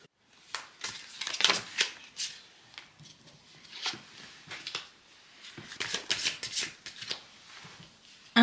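Tarot cards shuffled by hand, a series of crisp riffling bursts and soft card slaps coming in irregular clusters, close and moderately loud, with no voice over them.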